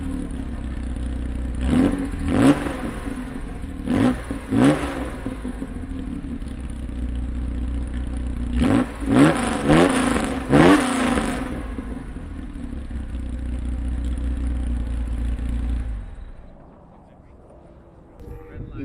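A Porsche 911 idles with a deep steady exhaust burble, then its engine is revved several times in sharp rising bursts, two pairs of blips a few seconds apart, before settling and shutting off toward the end.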